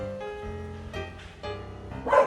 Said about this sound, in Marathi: तिकडे कुत्रा आहे ना त्याच्यावर भुंकत आहे